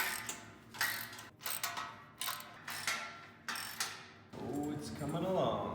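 A wrench ratchets in repeated bursts while bolting a power rack together, the clicking sets separated by brief pauses, followed by a voice speaking near the end.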